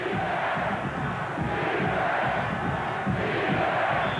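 A stadium crowd at a 1991 college football game, Washington at Nebraska, roars steadily with dense cheering and shouting throughout.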